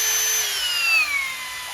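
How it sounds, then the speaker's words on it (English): Power drill boring holes to mount a harness bar in a Jeep JLU, a steady high whine that slowly drops in pitch as the bit slows under load, close and loud, with no talk. "Slower RPMs for the larger bit, a little bit faster RPM for the smaller bits. If you'll start the drill"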